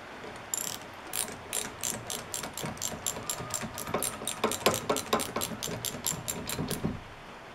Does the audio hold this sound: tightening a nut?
yes